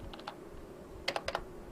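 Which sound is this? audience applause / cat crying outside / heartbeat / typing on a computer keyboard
typing on a computer keyboard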